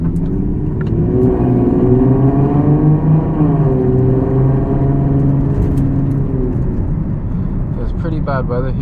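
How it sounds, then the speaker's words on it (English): A Nissan 370Z Nismo with a valvetronic exhaust idles with a deep, steady rumble, the engine note rising and settling in a brief rev while warming up on a rainy day. "So let the engine warm up a little bit before I give it some throttle."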